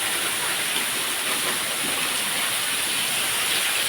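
A temple waterfall pouring over a cave mouth makes a steady, dense, loud rushing hiss that fills the clip without a break, and no one speaks.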